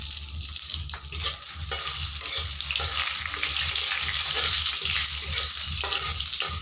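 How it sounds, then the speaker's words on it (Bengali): Bay leaves, dried chilli and cumin seeds frying in hot oil for an egg curry, giving a loud, steady sizzle and crackle that carries through without a break and with no talk over it. "প্রথমে দিয়ে দিচ্ছি দুটো তেজপাতা, একটু শুকনো লঙ্কা, সামান্য একটু জিরা"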